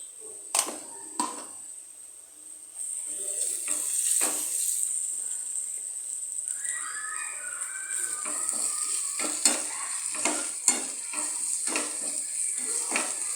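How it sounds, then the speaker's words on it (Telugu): Ginger paste frying with shrimp in a pan: a faint, constant hiss of sizzling oil, broken by repeated scraping and stirring knocks, close up. "ఇలా కొంచెం అల్లం పేస్టు పచ్చి వాసన పోయే వరకు కొంచెం వేపుకోవాలి"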